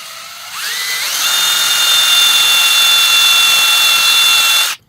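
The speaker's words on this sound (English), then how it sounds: "I set my drill to drill" A power drill driving a swage tool into half-inch copper pipe, a loud close whine that revs up quickly and holds steady for several seconds before cutting off abruptly.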